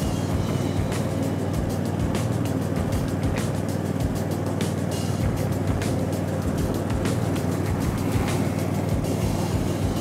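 A Caiman Rapido Max Eco garden tractor mowing grass, its engine droning steadily and close with a constant low hum, overlaid by frequent sharp ticks and clatters from the cutting deck, no talking.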